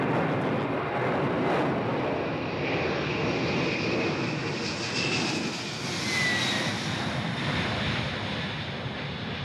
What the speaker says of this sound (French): avions qui viennent de Diegem.